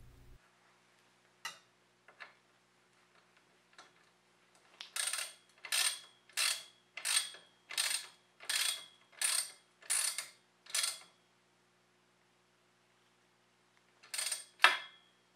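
A wrench tightens the bolt on a bicycle gyro brake, giving a row of about eight evenly spaced ratcheting clicks in the middle and two more near the end, close and crisp against near silence.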